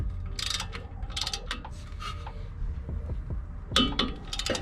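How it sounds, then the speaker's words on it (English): Torque wrench tightening 13mm front brake bolts on a 2015–2019 Ford F150, a run of close metallic ratcheting clicks coming in quick bursts, with clinks of tools and a louder clicking burst near the end. "you want to set your torque wrench to 27 foot-pounds."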